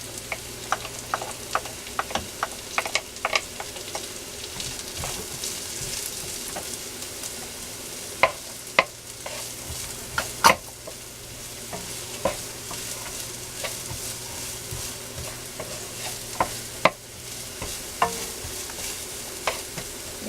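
Onion and garlic frying in a pan for tochong bangus, a continuous close sizzle broken by frequent sharp scraping clicks of a spatula stirring throughout.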